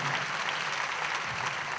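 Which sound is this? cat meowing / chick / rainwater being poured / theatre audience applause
theatre audience applause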